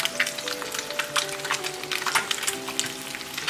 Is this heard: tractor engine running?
no